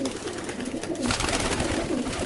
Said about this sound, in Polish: Bardzo fajny gołębiu.